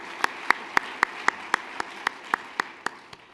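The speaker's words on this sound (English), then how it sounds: "let's give him a round of applause anyway" At an award ceremony, about a dozen crisp, evenly spaced claps ring out in a steady rhythm, close and distinct, fading slightly toward the end.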